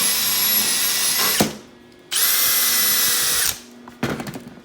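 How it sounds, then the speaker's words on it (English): A power wire brush scrubs a fresh weld bead on a tubular steel headlight and radiator core support, running loud in two steady bursts of about a second each with a pause between, then a short rough restart. "Just grind this off, or excuse me, wire brush it off."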